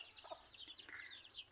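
Several clucks and short calls from free-ranging native chickens in a mountain farmyard at sunset, scattered across the moment at moderate distance, with no talking.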